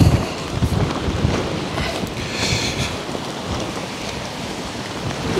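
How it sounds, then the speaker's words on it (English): Strong storm winds of about 30 mph batter backpacking tents, an X-Mid 2 and an MSR Elixir 2, during Storm Bert, giving a loud, continuous roar of gusting wind and flapping fabric with rain-like hiss throughout. "That was the 30 mile an hour winds have just come in."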